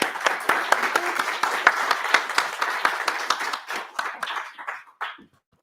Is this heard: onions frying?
no